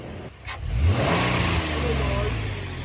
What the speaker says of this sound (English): Oh, nice rev.